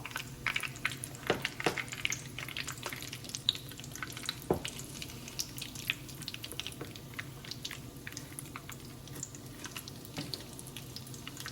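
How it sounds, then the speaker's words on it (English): Mutton cutlets fry in a pan, street-food style, with a soft continuous sizzle and crackle and a few sharper clicks and scrapes as they are turned. The sizzle stays fairly quiet and no one speaks over it. "So let us flip the cutlets now."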